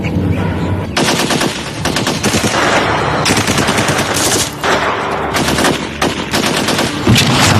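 Sustained rapid gunfire from a film scene of police surrounding and shooting, with dense machine-gun bursts and overlapping shots filling the whole stretch, loud and continuous with brief dips.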